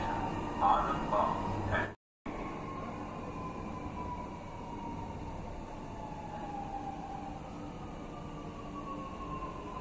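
Steady rumble and hum of a Lucknow Metro train in motion, with a faint rising whine from the wheels and motors and a brief announcement tone early on.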